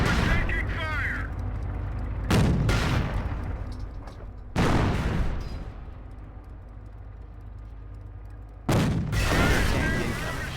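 Gunfire and heavy blasts in a Company of Heroes World War II battle with tanks: three loud booming bursts at irregular intervals rise over a continuous rumbling combat din.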